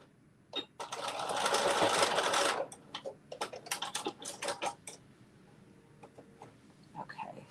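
A sewing machine stitches a zipper pouch in a short continuous burst, followed by scattered clicks and handling taps at close range.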